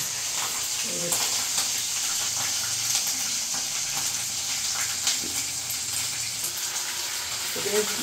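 Cinnamon sizzles in hot oil in a pan while Bihar-style chicken is being cooked, giving a steady, close crackling hiss with scattered sharper pops throughout and faint clatter in the background.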